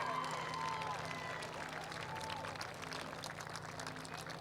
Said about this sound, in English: So big round of applause for our champions, Wanganui High.